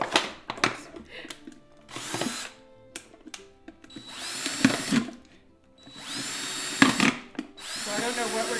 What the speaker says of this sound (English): Have the drill going the right way.